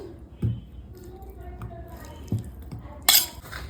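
Curry is served into a container with metal utensils: scattered clinks and scrapes, one sharper clatter near the end, with talking in the background.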